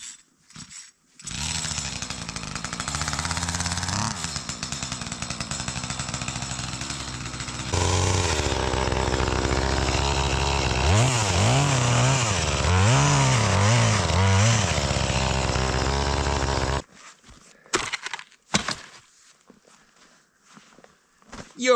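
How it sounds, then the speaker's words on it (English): A chainsaw roars close by, revving up and down as it bites into fallen trees over a frozen stream, then cuts out, leaving brief scattered knocks and rustling. "I need a bigger chainsaw."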